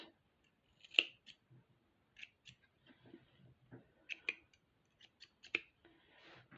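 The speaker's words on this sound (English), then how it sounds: "Get my scissors." Scissors snip close by in a handful of quiet, irregular cuts with short pauses between them.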